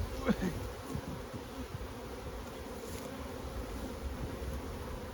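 Honey bees buzz steadily around an opened hive in an outdoor apiary, a dense continuous drone close to the listener.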